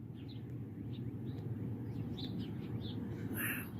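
Small birds chirp and tweet in repeated short calls from trees, fairly faint and distant over a steady low rumble of background noise.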